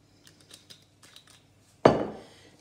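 A spoon stirs a dressing of mayonnaise, wine vinegar and hazelnut oil in a bowl, giving a few faint light clinks followed by one sharp, close scrape or clatter against the bowl.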